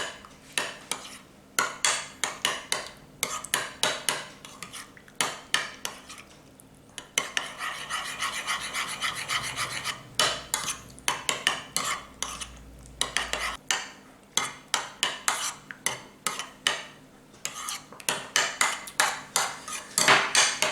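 A utensil whisks honey, lime juice and mayonnaise together in a bowl, giving repeated scraping, clinking strokes in uneven bursts, close and fairly loud, with no talking.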